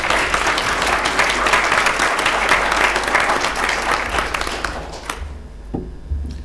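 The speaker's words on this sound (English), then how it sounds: "I'd like to give everyone a round of applause to Laura and our panelists, please." Audience applause at a corporate forum in a Melbourne office, a dense, steady wash of many hands clapping for about five seconds before fading quickly into quiet room noise with a few last claps.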